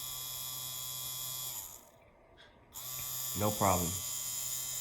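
Tattoo machine running with a 9 mag shader cartridge, a steady electric buzz throughout with a short pause midway before it resumes, close and clear, and a person speaks briefly over it.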